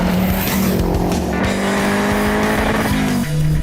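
A Renault 5 GT Turbo hot hatch drives hard, its engine loud and close with a rising, revving note and brief gear-change dips, tyres hinting at squeal.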